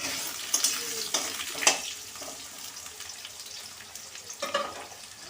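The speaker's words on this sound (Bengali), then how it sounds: "আমি তেলের মধ্যে আলুগুলো ছেড়ে দিলাম। আলুগুলোকে আমি লাল লাল করে ভেজে নিচ্ছি।" Potato pieces fry in hot oil with a faint, steady sizzle broken by a few sharp crackles and pops, heard close and alone.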